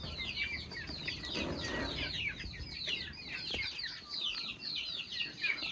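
A hen in a backyard poultry setting clucks and chatters repeatedly in short, rapid bursts, fairly close and continuous over a soft background.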